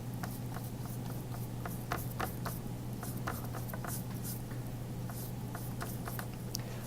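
A paintbrush strokes across paper in soft, repeated brushy scrapes under a steady low hum, close and quiet, with no talking.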